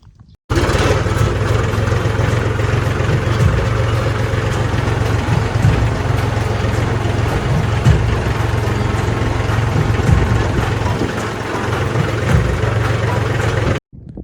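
A tractor engine runs at a steady idle close by, a loud constant low rumble that starts abruptly and cuts off near the end, with no talk.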